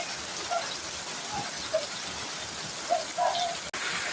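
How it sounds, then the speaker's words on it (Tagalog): Steady hiss of heavy typhoon rain pouring down in the Philippine countryside, a dense constant wash with a few faint chirps and drips, ending in a sudden click. "Lumalakas pa ang ulan."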